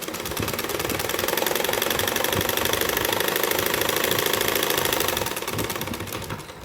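A sewing machine stitching a seam in fabric for palazzo pants, running steadily at close range with a rapid, even mechanical chatter for about five seconds before slowing and trailing off.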